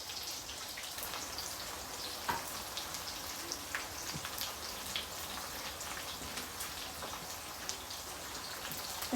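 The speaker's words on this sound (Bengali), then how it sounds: "তো আমি তেল গরম করে তেলের মধ্যে দিয়ে দিলাম সাথে আমি আস্ত রসুনের কোয়াগুলো অ্যাড করে দিলাম" Whole garlic cloves sizzle in hot oil with a dense, fairly quiet crackle and scattered small pops, steady throughout like light rain, with no voices.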